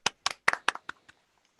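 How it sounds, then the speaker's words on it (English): A small audience claps for Kate at an evening comedy panel show: about six sharp, separate hand claps in an irregular rhythm, close and clear, trailing off into a few faint taps. "Can I have a big round of applause for Kate, please?"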